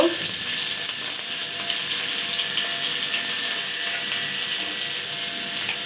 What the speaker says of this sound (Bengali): এই মাছের মাথা ভাজা ওই তেলের মধ্যে আমি চালটাকে ভেজে নিব